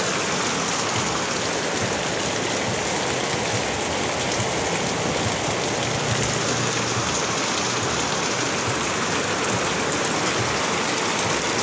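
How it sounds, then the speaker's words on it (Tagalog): A constant downpour of heavy rain over a vegetable garden, thick hissing and pattering without a break, loud and close. "Grabe lakas ng ulan na to"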